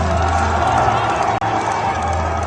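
A wrestling arena crowd cheers wildly for El Grande Americano, a continuous loud roar of many voices that stays dense and steady throughout, broken by one brief dropout midway.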